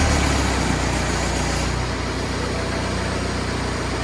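A BMW 1 Series car engine running steadily, a close, even hum with a low throbbing pulse and faint vibration throughout, no voices.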